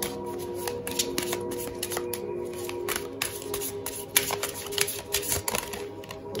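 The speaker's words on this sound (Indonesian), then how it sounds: "I just want to shuffle this card again" Tarot cards being shuffled by hand, a rapid series of crisp riffling flicks and snaps at close range, irregular bursts over a quiet background with no talk.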